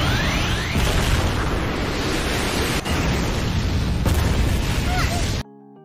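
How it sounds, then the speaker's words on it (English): A big explosion around an anime battle arena: a loud, sustained roaring blast of broad rumbling noise with a few sharper cracks, cutting off abruptly into near silence. "Leo used her emblem ability so strongly that it made a big explosion around the arena"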